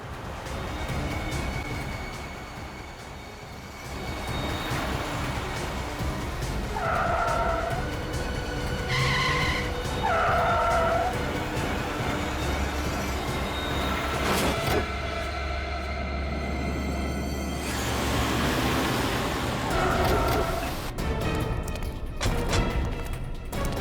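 Car driven wildly by thugs in a TV crime drama, with tyres skidding and screeching in repeated squeals over a continuous engine roar and rumble, interspersed with crashes and metallic clatter.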